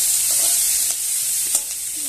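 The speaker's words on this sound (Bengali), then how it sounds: "পেঁয়াজগুলোকে একটু ভালো করে ভেজে নেবো কড়াই লাল করে" Chopped onions fry in hot oil in a kadai (wok), giving a steady close sizzle with a couple of faint stirring clicks.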